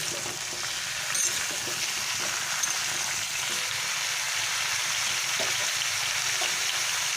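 Potato, pointed gourd and pumpkin curry frying with spices in a pan, a dense, even sizzle that holds steady throughout with faint stirring underneath, and no speech.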